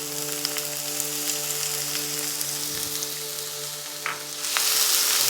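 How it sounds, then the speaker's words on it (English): Onion sautés in about a tablespoon of olive oil for vegan spanikopita, a close, continuous crackling sizzle over a low steady hum, growing brighter and louder near the end. "We're going to add a little bit of olive oil, about a tablespoon or so, just enough to saute the onion"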